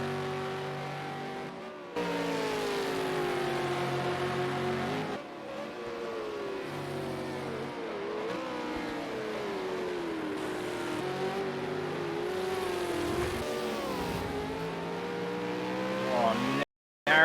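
V8 Supercar race cars at Bathurst's Mount Panorama, a loud, continuous engine howl that sweeps up and down through the gears over about seventeen seconds, with a brief dip midway and an abrupt cut at the end.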